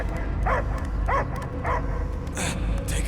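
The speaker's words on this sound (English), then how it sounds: "I hear only barking." A dog in the Guardians of the Galaxy video game gives three short, evenly spaced barks, followed by a couple of higher yips, all close and clear over a low, steady rumbling background.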